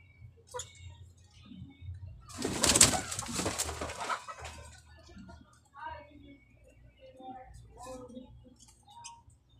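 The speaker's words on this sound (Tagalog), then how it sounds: "Ilang weeks na to sila nakatambay mga birds." Pet alimokon doves coo softly, with a burst of fluttering and rustling midway and scattered low coos afterward, close by and fairly quiet.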